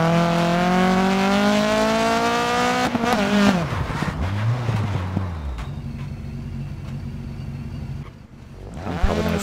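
A rally car engine in the racing game DiRT 4 revs high and then drops sharply as it shifts gears, followed by a lower rising drone and a steady running engine tone, loud and close.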